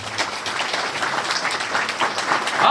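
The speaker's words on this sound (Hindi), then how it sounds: "प्रभु के लिए जोरदार ताली" Christmas Sunday church congregation applauding loudly together, a dense, steady wash of clapping from many hands that swells slightly toward the end.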